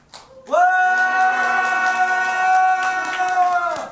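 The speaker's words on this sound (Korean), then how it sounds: "우리 친구들 함성!" Children at a church Wednesday Bible study let out one loud, sustained group shout together, starting abruptly after a brief quiet and holding for about three seconds.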